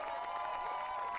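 Crowd at Silverstone cheering and applauding podium finishers after a 2011 Blancpain Endurance Series race, a soft, distant, continuous swell of cheers.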